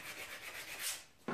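A rag rubbing across the freshly sanded metal of a Ford 9-inch rear axle assembly, a quiet, steady scrubbing swish with no voices and a brief sharper scrape at the end.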